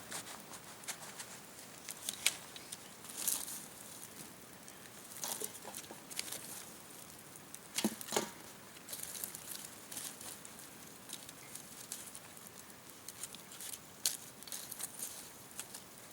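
Rain patters steadily outdoors during a cookout over coals, a soft, faint, continuous hiss with scattered louder taps and drips throughout.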